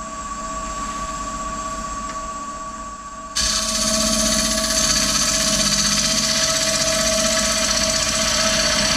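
A wood lathe hollows out a beech yarn bowl, a steady mechanical whine with a tonal hum that jumps louder and rougher as the cutting tool bites into the spinning wood.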